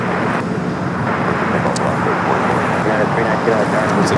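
A jet on takeoff from runway 25 right at Los Angeles International Airport, a loud broad continuous engine roar that holds steady, with road traffic noise mixed in and a voice talking over it.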